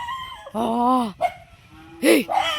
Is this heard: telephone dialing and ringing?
no